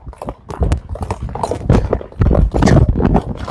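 A young horse, the foal of a horse named Tyson, moves about with hooves clip-clopping in a busy, uneven rhythm at close range, loud and steady throughout.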